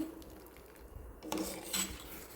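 Partly boiled potatoes with lemon juice and salt are tossed in a metal bowl, producing soft clinks and scrapes of a spoon against the dish, a couple of brief louder rattles, and quiet room noise between.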